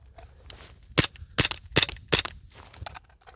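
Four sharp handgun shots fired at targets, one with a red-dot sight, crack out at an outdoor range in quick succession, loud and close, with a faint fifth pop trailing after.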